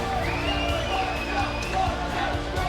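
A packed arena crowd at a CS:GO esports finals in London roars and cheers steadily, with scattered whoops rising over a dense wash of noise.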